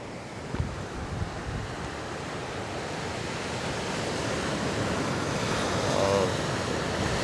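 Ocean waves surge and break steadily on a beach near rocks, a continuous broad roar of surf with some wind noise on the microphone, growing slightly louder toward the end, with no talking.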